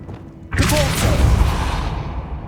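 Depulso force spell cast in the video game Hogwarts Legacy: a sudden loud whooshing blast that erupts after a quiet moment and rumbles on, slowly fading over about two seconds, with no talking.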